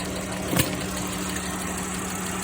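A 2017 Dodge Grand Caravan engine idling steadily with a rocker arm fault, a constant mid-pitched hum with a faint tick over the top and one brief louder tap.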